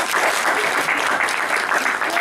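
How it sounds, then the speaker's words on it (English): An audience at a seminar breaks into steady, dense applause, continuous clapping from a room full of people, fairly loud, with a voice faintly audible underneath. "Applause, please."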